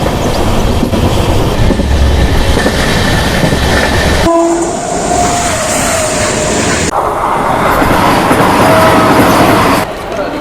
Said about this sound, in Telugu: ఇది ఒక ఇంటర్సిటీ ట్రైన్ అనమాట.